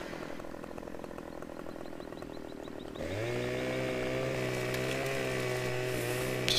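A chainsaw in the video game Farming Simulator 15 idles with a buzzing rattle, then revs up into a loud, steady whine as it cuts into a tree, with no voices.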